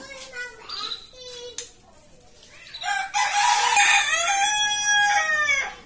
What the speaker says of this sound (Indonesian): Jadi ini karena banyak ayam, jadi di sini ramai banget.